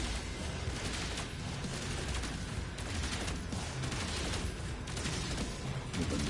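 Continuous rapid gunfire shoots at sentinels in the video game No Man's Sky, a dense unbroken rattle of shots that stays loud and even across the whole stretch with no talking.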